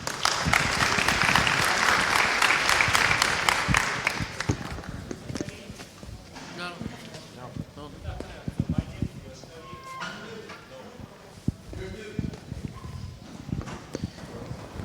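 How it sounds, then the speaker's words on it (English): A conference audience at FOSDEM 2016 applauds a speaker. Loud, dense clapping lasts about five seconds, then fades into scattered footsteps and handling noises. "Please give him a warm applause."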